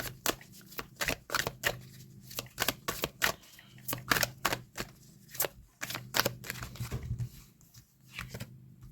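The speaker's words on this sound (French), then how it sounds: "Je reprends une dernière carte" A final card is drawn from a deck during a card reading, with a long run of crisp card flicks, snaps and shuffling riffles at an uneven pace, close and fairly loud, with no talking.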